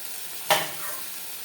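Rice batter for chitoi pitha hits a hot pan with a sudden loud sizzle burst that quickly settles into a steady, softer hiss, heard up close with no talking.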